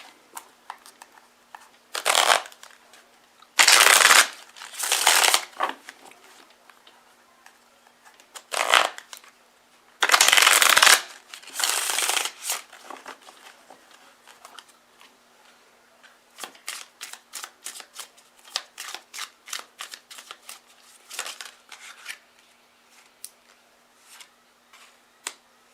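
Tarot cards shuffled by hand: several loud riffling bursts early on, then a long run of quick, light card flicks and taps, close and alone.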